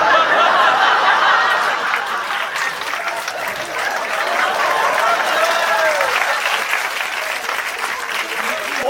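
Sustained audience applause fills a French stand-up comedy show, loud and dense from start to finish, with faint chuckles mixed into the clapping crowd.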